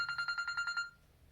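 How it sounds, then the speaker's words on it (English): A telephone rings somewhere in a house, a quick trilling bell pulsing about eight times over a second before stopping, fairly faint and distant, with no talk over it. "That's a phone ringing somewhere."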